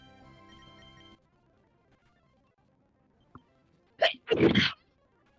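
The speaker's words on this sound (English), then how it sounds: "I can't believe you just sneezed." A single loud, close sneeze with a short intake before the explosive burst, after a brief musical jingle and near silence.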